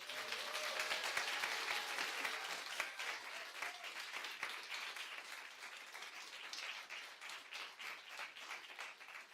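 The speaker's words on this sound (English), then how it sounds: "If y'all could give me one last round of applause for these new" A room applauds new lawyers at a law school swearing-in ceremony, sustained crowd clapping that starts full and dense, then slowly thins into scattered individual claps over several seconds.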